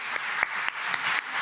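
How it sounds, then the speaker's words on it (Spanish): A seminar audience in a Spanish-speaking hall breaks into applause, a dense burst of many hands clapping with a few sharp accents, brief and loud. "Un aplauso, por favor"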